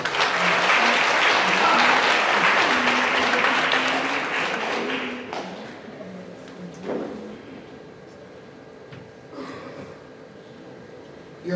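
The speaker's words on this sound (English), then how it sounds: "another round of applause for that round" Audience applause at a middle school spelling bee, a dense sustained clatter of many hands that fades after about five seconds into quiet room tone with a few faint bumps.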